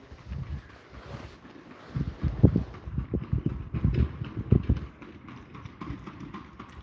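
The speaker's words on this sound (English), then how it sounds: "I hear horse and buggy." A horse and buggy's hoofbeats clop along a road in Lublin in an irregular rhythm, growing louder midway, with some rumble and wind around them.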